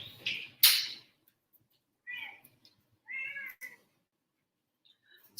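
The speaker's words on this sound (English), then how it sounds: "My cat's trying to get in." A house cat meows repeatedly at a door, trying to get in, giving several short, fairly loud calls separated by pauses of quiet.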